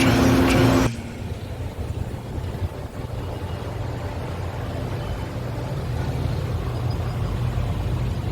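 A car drives along a mountain road through Rohtang Pass toward Manali, giving a steady, close engine and road rumble that starts after a brief louder burst and then runs on evenly with no talk.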